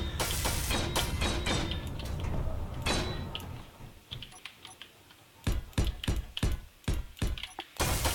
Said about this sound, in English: Weld all that up.